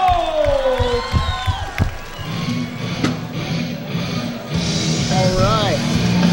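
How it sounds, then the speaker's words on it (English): Crowd at a live fight event cheers and whoops after an introduction, with an announcer's voice and scattered shouts over a busy arena murmur, loud and close. "Big round of applause, Matt Holt!"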